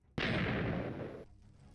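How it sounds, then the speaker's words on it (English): An explosion in Minecraft, a single sudden loud boom that starts abruptly after a short quiet moment, holds for about a second, then cuts off into a faint tail. "Explosion."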